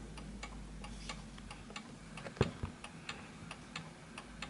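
Antique 1920s Napoleon hat mantle clock ticking in a quiet room, a steady even tick-tock at close range, soft and regular, with one louder knock midway and no talking.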